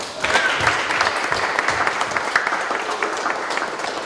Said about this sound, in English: I think we owe Seth a round of applause, right?